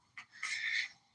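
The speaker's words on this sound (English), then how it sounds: "my friend's dog is here." A dog indoors gives a short, breathy huff or pant: a quick burst followed by a longer airy exhale, fairly close and moderately quiet in a room.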